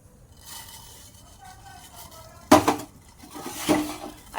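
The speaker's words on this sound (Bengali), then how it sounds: "গ্যাসটা জ্বালিয়ে বসিয়ে দিলাম একটি সসপ্যান" A saucepan is set onto a lit gas stove, two sharp metallic clanks and a scrape standing out over a low background hiss, with a faint voice present.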